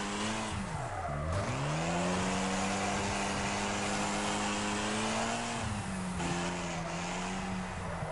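A race car engine in Wreckfest revs high and climbs steadily through the gears, with brief pitch dips at the shifts, tire noise and a constant loud drone close by.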